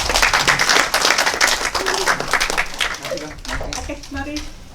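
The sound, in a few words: audience applause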